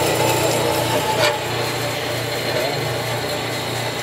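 A 9-inch swivel base band saw runs on its low setting, giving a steady, continuous motor hum with a faint whine, close and even for the whole stretch.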